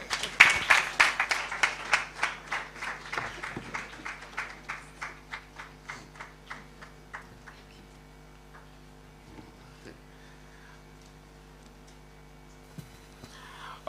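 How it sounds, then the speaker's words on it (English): A live audience claps in unison at a Ghanaian International Day of Persons with Disabilities event, loud at first, then thinning into a slowing, fading patter of separate claps before going quiet. "All right, so let's keep clapping for her."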